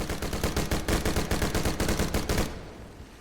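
Rapid automatic fire from the Airburst Tremor assault rifle in the game Dead Frontier 2, a loud, steady rattling burst of about two and a half seconds that stops abruptly and leaves a brief fading tail.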